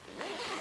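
A small zipper pocket on a hanging toiletry bag is pulled open in one quick, close, quiet zip, with no talk over it.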